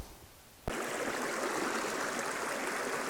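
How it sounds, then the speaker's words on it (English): A creek's water flows in a steady, broad rushing wash that starts abruptly after a brief quiet moment and then continues evenly and fairly close, with no voices. "Okay, let's go down to the creek."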